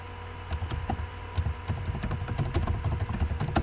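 Rapid key taps on a computer keyboard as a chart series name is typed, a dense run of light clicks close by, steady over a low background hum.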